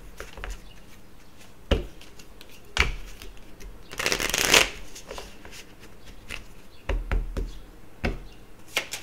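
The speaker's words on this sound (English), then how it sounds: "Let's get an Archangel Michael Oracle card out here." Archangel Michael oracle cards are shuffled by hand in a quiet room, with soft riffling and sharp taps of the deck, including a longer dense riffle partway through, close and fairly faint.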